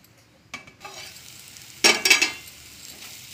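Palak paneer curry base stirred in a pan of hot oil, a sizzling, scraping stir with a louder burst of spoon strokes midway, close and with no talk.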